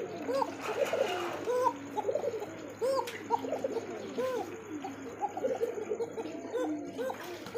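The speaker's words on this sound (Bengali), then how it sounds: "কবুতর ডাকটা দেখে নেবেন," Pigeons at a pigeon seller's stall coo continuously in a busy chorus of overlapping, rolling calls, close and fairly loud, with no talking over them.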